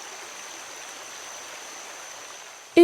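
Steady soft rushing of a flowing river, even and continuous at a moderate distance, with a brief sharp knock at the very end.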